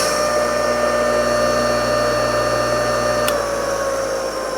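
A 3,450 RPM AC motor on a lapidary machine running steadily, giving a loud, constant hum with a high whine, close by and alone, with one brief click near the end.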